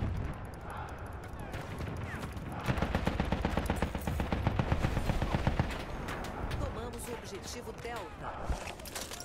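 Battlefield 1 multiplayer gunfire: rapid automatic bursts and single shots crackle continuously, with a dense stretch of fire in the middle, while a player talks over the action.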